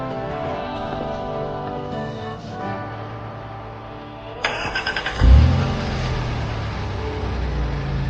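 A stalled car's engine cranks and catches after a jump-start from jumper cables, a brief stutter of cranking bursts followed by a low, steady idle that carries on to the end, preceded by quieter background noise, no talking.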